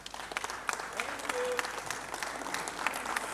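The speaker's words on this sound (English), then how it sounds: "another round of applause for Mr." A conference audience applauds at a fairly low level, scattered claps and crowd noise spread through a large room with sharp individual hand claps standing out, and a voice heard faintly underneath.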